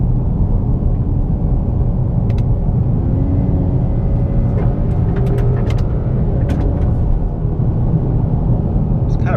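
A 2018 Honda Accord Sport with a 2.0-litre turbo and 10-speed automatic rolling over a gravel road, its low rumbling tyre and engine drone steady and close inside the cabin, with a few faint ticks and crunches.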